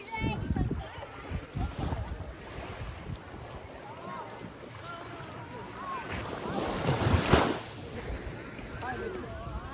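Surf at Frenchman's Cove Beach, Jamaica, rushes and washes in a broad, continuous roar, with gusts of wind buffeting the microphone and children's voices chattering intermittently over it.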